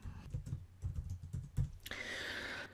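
Rapid, uneven clatter of keys typed on a computer keyboard, close and clear, ending in a steadier, brighter hiss of key noise with no voice over it.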